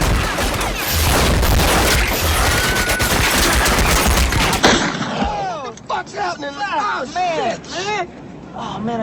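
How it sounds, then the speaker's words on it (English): Rapid burst of gunfire from a film scene, loud and dense for several seconds, then giving way to quieter crackling shots and whooshing effects. "Oh man, I shot Marvin in the face."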